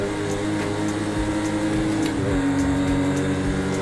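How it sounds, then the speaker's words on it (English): A car engine in Project Cars 2 holds a loud, steady drone with a shifting pitch from a constant-speed cruise, with no voices over it. "Just listen to the engine."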